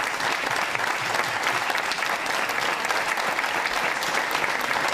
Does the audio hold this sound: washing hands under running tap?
no